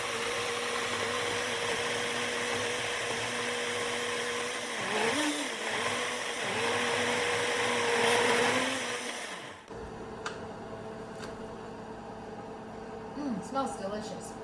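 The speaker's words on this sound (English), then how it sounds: "I'm going to go ahead and blend it." A blender pureeing soup with chicken broth, a moderate steady motor whir that drops off partway through, leaving quieter room noise with scattered light clatter and a voice speaking.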